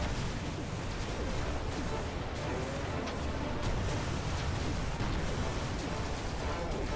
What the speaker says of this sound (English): I'm going to pop a few rockets off at him